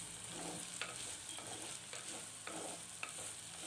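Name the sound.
onions being sautéed in a pan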